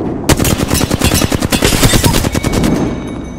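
Rapid automatic gunfire in Apex Legends rattles out as a loud, close burst of dense repeated shots lasting about three seconds, with no voices over it.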